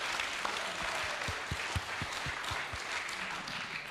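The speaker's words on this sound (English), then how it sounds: "If we could give them a round of applause." An audience applauds club members at a chamber music pre-concert talk, a steady wash of clapping with a few lower thumps standing out in the middle, moderately distant and even throughout.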